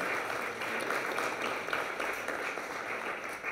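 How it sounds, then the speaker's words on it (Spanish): Audience applause at a Spanish-language event, a soft, continuous wash of clapping heard from a distance. "Un aplauso, por favor."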